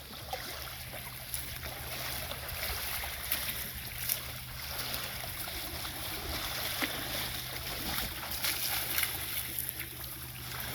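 A low steady motor hum runs beneath splashing, lapping water as a small boat loaded with wood moves across the surface, with faint scattered knocks.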